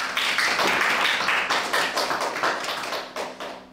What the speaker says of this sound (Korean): 다 같이 박수로 환영해 주시기 바랍니다.